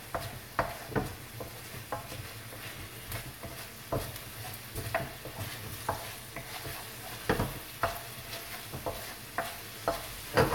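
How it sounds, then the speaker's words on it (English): Chicken caramelising in a hot pan for a Chinese chicken dish, a continuous sizzle and fry with regular scraping and knocking as it is stirred, close up and with no talking. "That's all caramelising nicely now."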